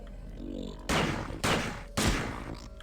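Three heavy bursts of gunfire from the video game System Shock 2 crash in at roughly half-second intervals, loud and close, each with a sharp attack and a short rumbling decay.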